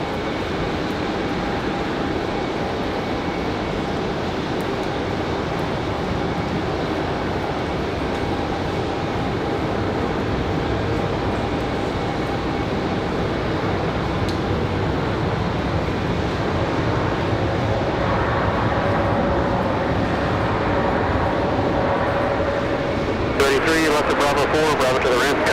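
A JetBlue Airbus A220 jet at Raleigh-Durham International Airport in snowy weather, a steady distant engine rumble and hiss with a rising tone late on, under ongoing talk.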